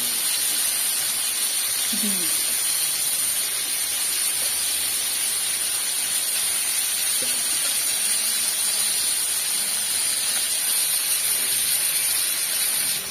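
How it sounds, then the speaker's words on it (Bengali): Tilapia head and fish pieces sizzle in hot oil in a village kitchen, a steady, bright hiss that runs unbroken throughout with faint background sounds. "মাথাটা দিচ্ছি আর কিছু তেলে মাছ দিচ্ছি, দিয়ে রান্না করবো"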